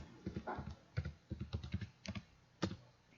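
A date is typed on a computer keyboard in quick clusters of key clicks, close and fairly quiet, with a brief pause before a final single keystroke.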